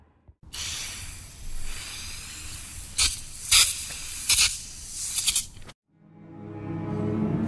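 Black spray primer hissing from an aerosol can onto Warhammer 40,000 Space Marine Scout miniatures, a long steady spray with several short sharper bursts in the middle, then it cuts off abruptly and a quieter rushing sound follows.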